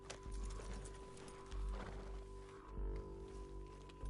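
Horse hooves galloping in Red Dead Redemption 2, rhythmic thudding beats with low rumbles under a steady hum, fairly faint and continuous through the clip.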